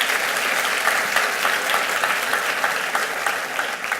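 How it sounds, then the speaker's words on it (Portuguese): A church congregation at a Brazilian service breaks into sustained applause, a dense, steady wash of many hands clapping together for the full stretch with no break. "Bom, pode aplaudir a Jesus mesmo."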